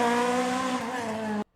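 A Peugeot 306 Maxi Evo hillclimb car with a 4-cylinder engine screams at high revs, a loud, sustained, harmonically rich howl that holds steady and then cuts off abruptly.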